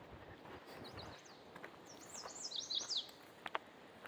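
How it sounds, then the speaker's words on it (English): Birds sing along the Appalachian Trail in a few quick, high chirping phrases, thin and somewhat distant over a soft outdoor hiss, with a sharp click near the end. "Alright, birds are singing."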